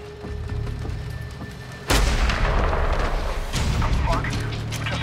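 One heavy gunshot in the video game Medal of Honor Warfighter cracks out abruptly, then booming, echoing gunfire and battle noise continue at high volume.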